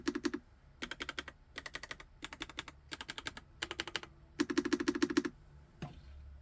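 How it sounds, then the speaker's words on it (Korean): Bursts of clicky typing on a pink YUNZII QL75 typewriter-style mechanical keyboard with hot-swap switches, played as quick close rhythmic runs of keystrokes separated by short pauses, with no talk. "언박싱하고 간단하게 타건을 해봤습니다."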